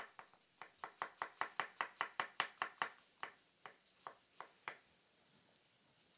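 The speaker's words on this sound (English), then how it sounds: "And what we're going to do is chop it up. We're going to do a julienne cut." An onion sliced into a thin julienne cut, the knife striking the board in a quick, even run of about seventeen close, crisp chops that slow and thin out toward the end, with one sharp knock at the finish.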